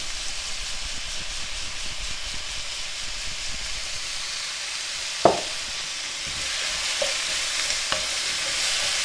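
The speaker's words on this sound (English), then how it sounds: "Give that a stir" Stir-fry noodles with chicken, vegetables and oyster sauce sizzle steadily in a hot pan, with a sharp scrape of stirring midway and a few lighter knocks afterwards, close and alone with no talk.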